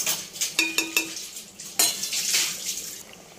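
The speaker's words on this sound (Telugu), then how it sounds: "ఒకసారి కలుపుకోవాలండి." A spoon stirs egg and dry fish curry with tamarind broth in a pot, giving several close scraping clinks in a steady rhythm, then a louder clatter and a soft bubbling simmer underneath.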